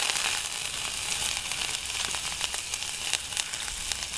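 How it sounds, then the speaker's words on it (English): Diced shallots and garlic sizzle in hot olive oil in a pan, a steady, fairly soft frying hiss with small crackles running evenly throughout. "the shallots that you've already diced and the garlic straight into the pan."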